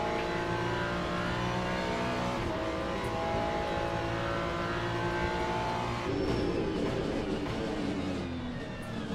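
Hypercar engines roaring in the Le Mans Ultimate racing game at Sebring, a steady high-pitched drone with shifting tones as cars pass, loud and continuous with no talking.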